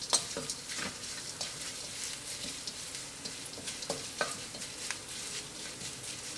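Curry leaves with crushed black pepper and coriander frying in a pan, a quiet crackling sizzle broken by scattered ticks and scraping stirs, close and without talk.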